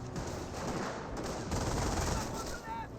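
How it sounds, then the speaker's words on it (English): An MG42 machine gun fires in the Company of Heroes video game, a steady, fairly faint rattle of fire heard in a busy battle mix with some talk over it. "And now we've got them being suppressed by the MG42."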